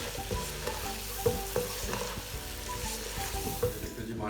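Cabbage, broccoli and onion stir-fry for a vegetable pulao, crackling and sizzling steadily in a hot pan, with close scraping stirs and brief clinks of a utensil throughout.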